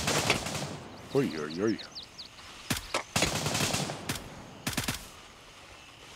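Gunfire in Gray Zone Warfare: sharp, fairly distant bursts and single shots crack out intermittently, while someone talks and makes a wavering exclamation between them.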